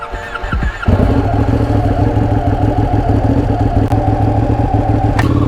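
A Ducati Panigale 959 motorcycle engine runs steadily at speed, a loud continuous mid-pitched drone with rattling clatter, starting after a brief quieter moment.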